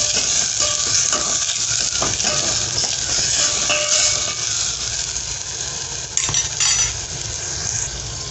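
Tomato being stirred into masoor dal masala frying in a pan, with a steady loud sizzle and scraping, clinking spoon strokes against the vessel throughout, and no talking.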